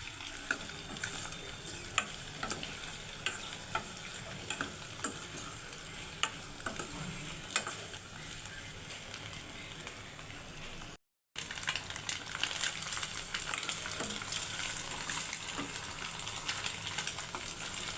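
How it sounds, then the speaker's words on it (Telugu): Eggs fry in oil until browning for an egg pickle, a steady close sizzle with scattered stirring ticks and scrapes throughout, briefly cut to silence before the sizzling resumes. "ఎగ్స్ కొంచెం వేగాలి వేసుకున్న తర్వాత ప్రాసెస్ చేస్తాము కొంచెం బ్రౌనిష్గా మారాలి"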